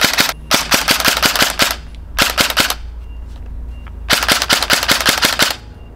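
An Echo1 P15 airsoft pistol with an active-braking MOSFET and stage five pre-cocking fires three loud, rapid bursts of sharp, evenly spaced shots, separated by short pauses.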